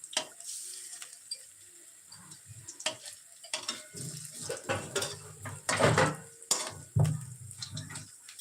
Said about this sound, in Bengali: এই যে কাঁকড়াটাও ভাজা হয়ে যাচ্ছে